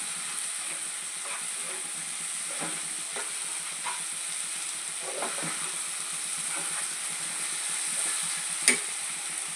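Chili powder, turmeric and salt stirred into hot oil in a pan for an egg curry, with a steady soft sizzle and occasional spoon scrapes, and one sharp clink near the end.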